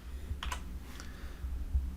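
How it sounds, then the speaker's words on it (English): Keys tapped on a computer keyboard while entering dimensions, a few quick irregular clicks in short bursts, faint and close against a quiet low hum. "I'm going to manually specify the geometry by typing the dimensions here"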